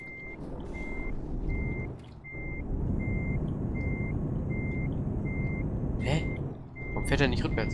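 Steady electronic reversing beeps from a truck in Euro Truck Simulator 2, a regular evenly spaced pulse running throughout over a loud diesel engine rumble, with brief air brake hiss and clatter near the end.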